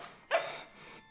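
A single short dog bark, quiet and brief, heard as part of the film The Babadook.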